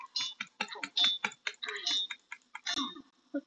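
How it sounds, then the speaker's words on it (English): Rapid mouse clicking while playing Prison Architect: a fast, irregular run of crisp close clicks, with no pauses longer than a moment. "I'm just gonna spam clicking this."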